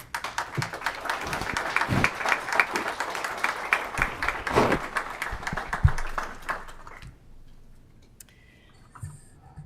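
Applause in a legislative committee room as judges stand, a sustained round of clapping from a modest crowd that fades out after about seven seconds into quiet room tone.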